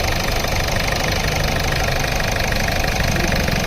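A vehicle engine idles steadily at an auto repair shop, a constant loud mechanical hum with an even knocking rhythm and no breaks or talk.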